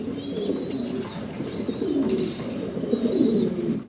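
An American Lakha pigeon at a breeder's farm coos in low, rolling murmurs repeated several times, close and moderately loud, with faint high chirps from other birds behind and no talk.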